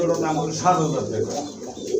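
Large-sized pigeons, a pair kept at a pigeon seller's coop in Bangladesh, coo in low rolling bursts close to the microphone, with background voices faintly underneath.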